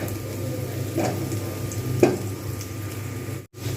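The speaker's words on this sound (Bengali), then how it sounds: "প্রথমে আগে পেঁয়াজটা আর কাঁচা লঙ্কাটা ভালোভাবে ভেজে নেওয়া দরকার" Onions and green chilies frying in a pan for a Bengali katla fish curry, giving a low steady sizzle with a couple of soft stirring scrapes and a brief break near the end.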